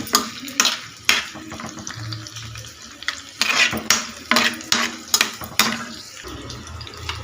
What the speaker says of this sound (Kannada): ಸೊ ಈರುಳ್ಳಿ ಹಾಕ್ಕೊಂಡು ಚೆನ್ನಾಗಿ ಫ್ರೈ ಮಾಡ್ಕೊಳ್ಳಿ